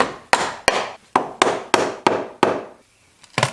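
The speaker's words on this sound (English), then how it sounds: "That brittle, ooh, that brittle valve cover gasket." A brittle old valve cover gasket on a BMW E36 engine cracks as it is pried off, giving a run of sharp close snaps at uneven intervals, then a short pause and a final double crack.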